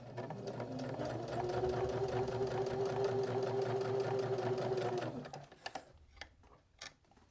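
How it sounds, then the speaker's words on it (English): A sewing machine stitches across the end of a fabric tab on a drawstring bag, running in a fast, even, close mechanical rattle for about five seconds before stopping, followed by a few soft clicks and handling sounds. "Roll my needle down and stitch across."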